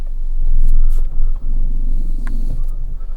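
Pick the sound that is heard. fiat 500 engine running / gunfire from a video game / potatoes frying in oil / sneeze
fiat 500 engine running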